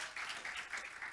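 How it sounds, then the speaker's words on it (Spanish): A church congregation claps for the Lord in a short burst of fairly faint, rhythmic crowd applause. "Denle un fuerte aplauso al Señor."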